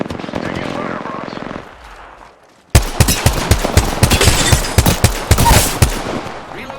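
Rapid automatic gunfire in Apex Legends, loud and close, bursting in after a brief lull that follows game sounds and chatter, with dense repeated shots continuing to the end.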